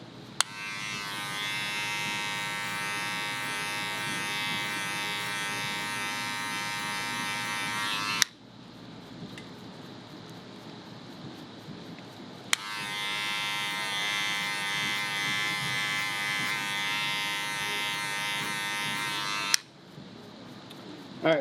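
Electric hair clippers fitted with a number two guard run in two long buzzing stretches, each about eight seconds, cutting hair down with the grain for a taper, with a quiet pause and faint handling sounds between them.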